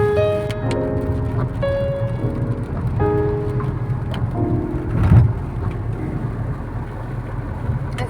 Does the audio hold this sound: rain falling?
yes